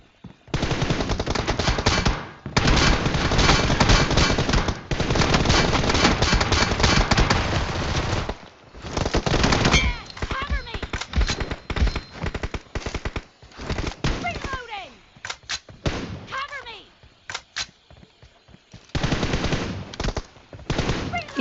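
Dense automatic gunfire from the PUBG Mobile game, long loud bursts of rapid shots early on, then shorter broken volleys with pauses and faint whooshing sounds in between.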